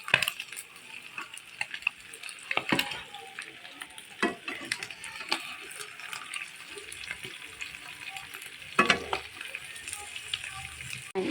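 Steady crackling sizzle of chicken liver frying in hot oil for adobo, with sharper pops and spatters scattered throughout, fairly close.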